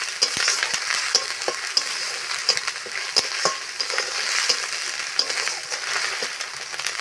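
Spice paste of ground cumin, coriander and dried chilli sizzles steadily in hot oil for a village-style shol fish curry, with a dense frying hiss broken by light scraping stirs throughout.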